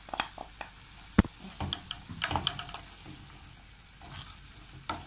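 Soft, steady sizzling of onion frying with meat in a pan, with scattered clicks and a sharp tap of a utensil against the cookware.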